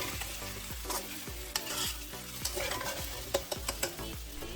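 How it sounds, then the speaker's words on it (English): Beef chow fun rice noodles stir-fried in a wok, steady sizzling with rhythmic scraping and tossing strokes and a few sharp clanks, no voices. "Continue toss everything together for about 1 minute."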